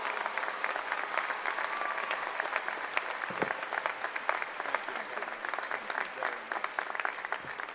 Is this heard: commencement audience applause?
yes